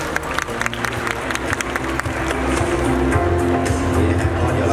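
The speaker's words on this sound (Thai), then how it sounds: "ขอเสียงปรบมือดังๆต้อนรับคุณแมทพีรณีคงไทยครับ" An event crowd claps to welcome a guest at a product presenter launch, with sparse claps at first swelling into steady, full applause.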